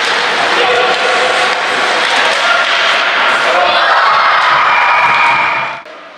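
Parents cheer loudly at a youth ice hockey game, a dense crowd roar with shouts and whoops held at a high level before cutting off abruptly near the end.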